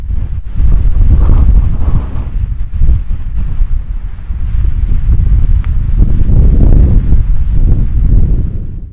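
Strong wind blowing across a desert hiking trail, loud and continuous with gusty rumbling against the microphone, swelling and easing throughout with no voices.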